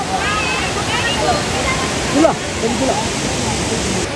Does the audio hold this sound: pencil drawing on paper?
no